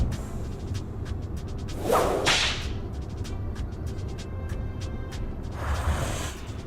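A whip cracks in the video game Lil Guardsman: a sharp swish and crack near the two-second mark, then a second softer swoosh close to the end, over faint ambient music.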